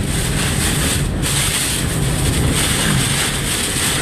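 Hurricane Michael's wind roars steadily in Panama City, a loud, dense rush of gusting air buffeting the microphone without a break.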